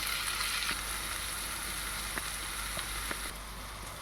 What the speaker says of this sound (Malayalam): ഒരു പാൻ അടുപ്പത്ത് വെച്ച് ആവശ്യത്തിന് ഓയിൽ ഒഴിച്ചുകൊണ്ട് സവാള വഴറ്റിയെടുക്കും.